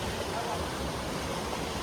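A waterfall in Uttarakhand gives off a continuous, dense roaring rush of water, loud and close, unchanging across the short stretch.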